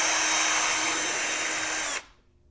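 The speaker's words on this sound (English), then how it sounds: "this is a 16th-inch drill bit for a 16-gauge wire." A close, high-pitched drill with a 1/16-inch bit whirs steadily for two seconds, then cuts off abruptly into quiet, drilling holes around the edge of a cracked vessel for copper wire repair.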